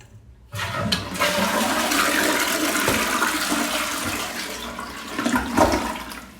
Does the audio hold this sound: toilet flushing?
yes